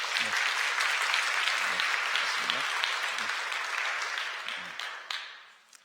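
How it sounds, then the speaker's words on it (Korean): A Sunday worship congregation claps in welcome for a new young member, a full, continuous round of applause with a few low voices beneath it, tapering off and fading out at the end. "여러분들 환영의 박수 부탁드리겠습니다."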